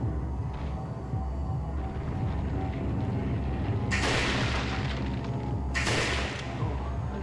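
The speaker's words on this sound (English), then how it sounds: "Shoots right in the hand." Gunshots in Resident Evil 4, two heavy blasts a couple of seconds apart over a steady rumbling game background.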